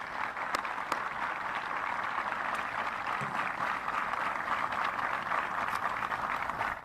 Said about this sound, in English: How about an applause for them?